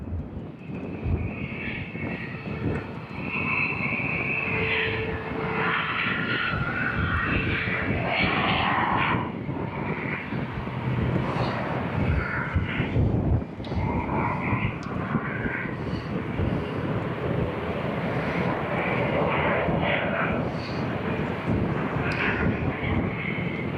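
Ryanair passenger jet at Fuerteventura Airport, a steady broad engine roar sustained throughout at moderate distance, with wind and some faint background voices.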